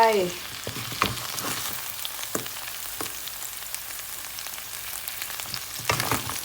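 Crispy catfish stir-fried with chili paste, green peppercorns and long beans in a pan, a steady close sizzle and frying hiss with scattered clinks and scrapes of stirring throughout.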